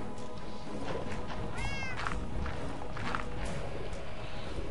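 Minecraft cats meowing in short game-sound calls, a few distinct meows over a busy background of faint in-game noise.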